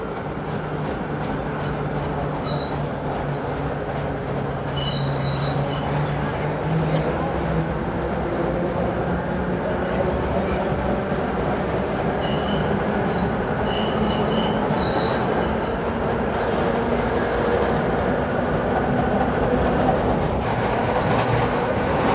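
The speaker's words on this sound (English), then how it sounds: "Just enjoying the sound of the old subway cars." Old subway cars rumble steadily along the track, a continuous loud roar with faint wheel squeals and clatter running through it, and no pauses.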